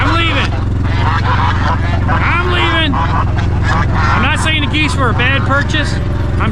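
Geese honking repeatedly in a noisy cluster, close by, with a steady low rumble underneath and overlapping calls throughout.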